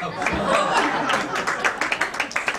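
Audience clapping at a store launch fashion event in Pune with a singer on stage: a dense, steady round of applause with murmuring underneath, thinning toward the end into separate, scattered claps.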